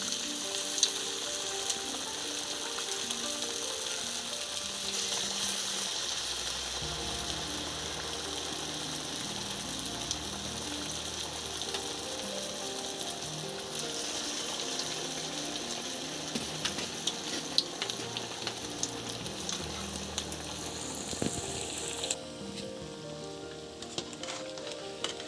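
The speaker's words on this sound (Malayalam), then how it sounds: "എണ്ണ നല്ലോണം തിളച്ച് വരുമ്പോഴത്തേക്ക് നമുക്കിത് ഇട്ട് കൊടുക്കാം." A homemade potato and egg snack fries in hot oil, giving a steady, close sizzle and crackle that lasts throughout. Faint stirring and scraping sounds come through now and then, and no one speaks.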